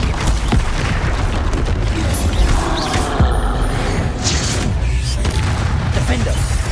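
Bombarda spell blasts in Hogwarts Legacy combat, loud booming impacts and crashing debris within a dense, continuous battle din, with voices calling out over it.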